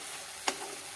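A single brief scrape of stirring drumstick leaf and flower curry in a pan, over a steady soft sizzle of cooking.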